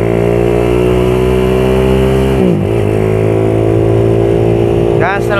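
A Suzuki Satria F150 motorcycle engine drones steadily while riding in Jakarta, the pitch dipping briefly midway before settling back, with a voice speaking over it.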